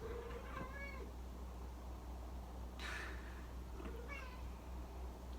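A cat meows a few times, insistent and drawn out, over a steady low background rumble.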